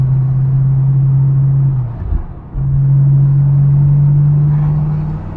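A TVR Chimaera drives on the road, its engine holding a steady low drone that dips briefly near the middle, as if lifting off, then returns to a constant close cabin hum.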